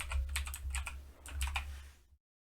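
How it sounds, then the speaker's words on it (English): Rapid bursts of keystrokes on a computer keyboard as a web search is typed in Windows, close and fairly quiet, pausing briefly midway, with no talking. "Then you're gonna type in Major Geeks space"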